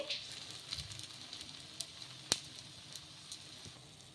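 Wheat rava and sago batter cooking on a hot pan over medium heat gives a faint, steady sizzle with a few soft crackles and one sharp tap, with no voices.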